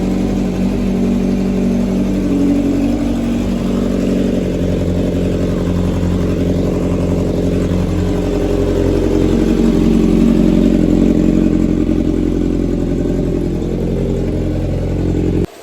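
Kawasaki Z900 motorcycle engine running steadily at idle, with a full-system aftermarket exhaust, a continuous low rumble that stays near and fairly loud for the whole stretch, swelling slightly in the middle.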